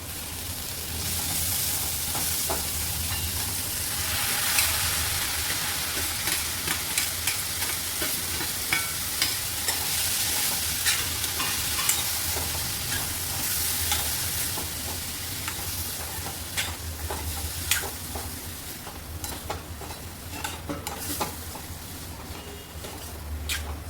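Finely chopped tomatoes fry with masala powder and turmeric in a hot pan for tomato bhaji, giving a steady sizzle and hiss with repeated stirring scrapes throughout, close and fairly loud, with no talking.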